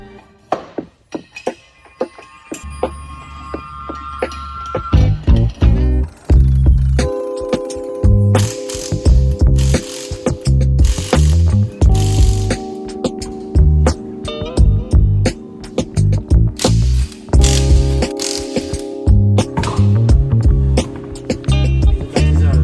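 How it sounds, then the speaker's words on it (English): A car is jacked up and its wheels removed with a ratchet: clanking metal thunks, rattles and bursts of ratcheting clicks sound close and busy over a steady low hum, with no talk. "So we're going to have to jack this thing up, take the wheels off, and start prepping the calipers for paint."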